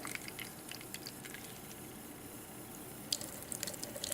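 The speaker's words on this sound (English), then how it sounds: "I'm going to turn the water on. I'm going to fill the cup up." Water runs from a lab faucet into a cup in a continuous soft splash, with brighter gurgling and dripping as the cup fills toward the end, quiet and close with no speech.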